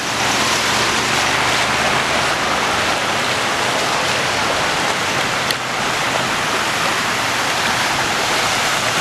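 Floodwater rushing through the streets of Camaquã after heavy rain, a loud, steady broadband roar of flowing water that continues without a break and without voices.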